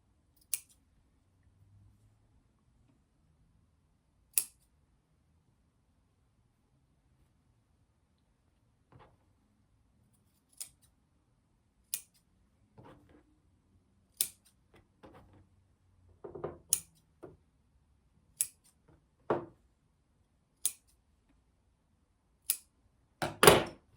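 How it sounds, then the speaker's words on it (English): Sharp scissor snips cutting fabric, a dozen or so irregularly spaced cuts, close and crisp, with quiet handling noises between them. "These big scissors from Creative Notions are a little bit overkill, but they cut so nicely."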